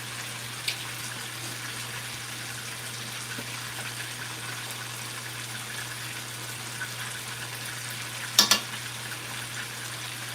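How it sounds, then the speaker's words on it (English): Fish for Jamaican escovitch fry crispy in hot oil, a faint steady sizzle running throughout with a couple of brief sharp spatters near the end. "we're just gonna fry it nice and crispy"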